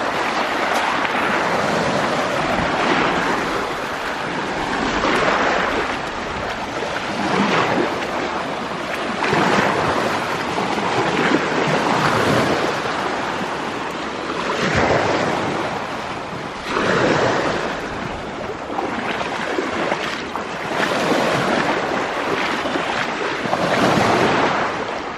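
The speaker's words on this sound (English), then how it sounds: "I'm walking in the water right now" Wading through cold, shallow Lake Superior shoreline water along a hiking trail near Grand Marais, with repeated splashing steps, waves washing in and gusty wind buffeting the microphone, loud and close throughout, with no talking.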